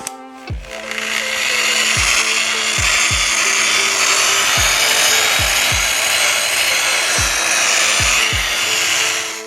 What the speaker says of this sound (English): The last step in the process, I like to use just a drywall pad.